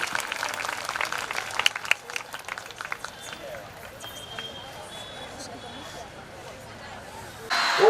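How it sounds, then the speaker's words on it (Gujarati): Applause from participants in a yajna hall during a Hindu ritual celebration: a burst of dense clapping that thins out, moderately loud, with speech and murmuring under and after it. "ચેતનાબેન વધારે છે તો આપણે તાળીઓથી આપણે યજ્ઞશાળામાં એમનું સ્વાગત કરીશું જોરદાર તાળીઓથી"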